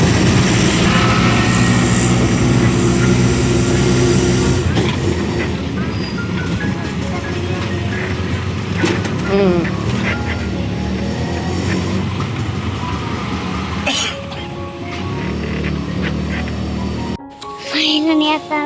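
Auto rickshaw ride to a railway station: a steady, loud engine drone and road rumble fill most of the ride, with traffic noise and clatter, then the rumble stops abruptly near the end and only brief ambient sound remains.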